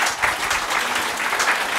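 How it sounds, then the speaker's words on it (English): Applause from a tech conference audience in Bucharest welcoming an evening panel, a short, steady wash of many hands clapping at moderate loudness with no talk over it. "Give a big hand of applause to these guys."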